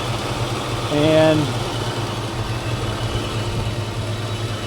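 A car engine idles steadily with a newly built radiator fan shroud, a continuous close low rumble and hum, with a brief voice near the start.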